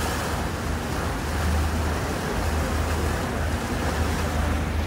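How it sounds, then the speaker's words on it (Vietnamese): A private boat passing on a river in Vancouver, heard as a steady wash of water and engine rumble mixed with wind buffeting the microphone, loud and continuous throughout. "Đó là cái tàu tư nhân."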